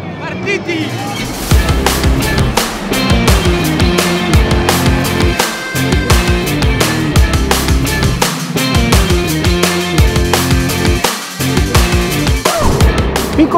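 Race cars, Ferraris among them, racing in the 6 Hours of Imola endurance race: loud, close engine passes with rapid gear changes and revving pulses, brief dips between cars, continuous and dominant throughout.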